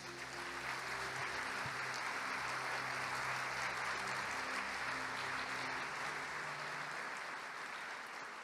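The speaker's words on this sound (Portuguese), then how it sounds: "Aplauda o nome de Jesus." A church congregation claps steadily and loudly at a Sunday service, a dense wash of applause that continues unbroken throughout.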